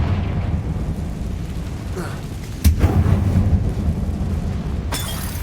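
Magic blasts from the Bombarda and Confringo spells in Hogwarts Legacy, a sudden loud burst near the middle followed by a rumbling tail and a second sharp crack near the end, over steady background noise.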